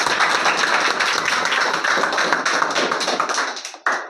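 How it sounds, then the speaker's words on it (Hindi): An audience at an honour ceremony for Up Board topper students claps for a guest, a dense, even burst of many hands lasting about four seconds before it tapers off. "गिरीश सर के लिए एक बार ताली बजा दीजिए"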